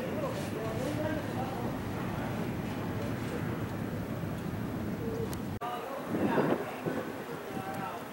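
A pigeon coos repeatedly at close range over a dense, busy outdoor background, with a sharp break midway followed by a louder burst of cooing and rustle.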